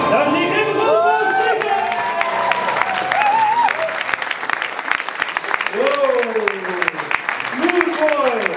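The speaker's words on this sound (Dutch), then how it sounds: "Dames en heren, geef een groot applaus," A crowd at a live show applauds and cheers at length, with whoops and excited shouts rising over the steady clapping.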